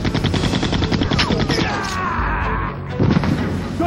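Rapid gunfire from the Nintendo 64 version of Resident Evil 2, a loud, continuous burst of shots with crashing impacts over roughly four seconds, heard up close with no pauses.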